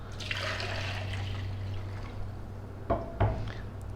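About a litre of chicken stock pours into a soup pot of onion soup, a continuous liquid gush that tapers off and ends in a couple of sharp knocks, close up with no voices.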